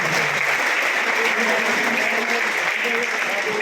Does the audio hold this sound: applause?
yes